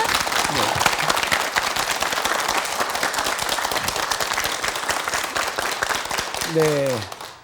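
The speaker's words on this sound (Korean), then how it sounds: "박수로 강의 청해 주시기 바랍니다." A studio audience on a KBS morning talk show applauds to welcome a lecturer, sustained dense clapping for about seven seconds, with a voice starting to speak just as it dies away.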